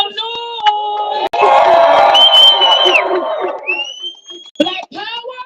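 Loud crowd at an outdoor reparations rally cheering, whooping and shouting in a sustained roar that swells, briefly cuts out and then rises again, with voices calling out over it.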